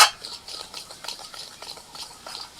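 A spoon stirs thick semolina batter with pea paste, salt and yogurt in a bowl, giving close, soft, wet scraping and swishing strokes in a quick irregular rhythm with no talking.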